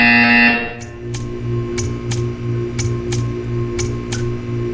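A buzzer sounds at the start, then a regular series of sharp ticking clicks repeats about every half second over a steady electronic hum.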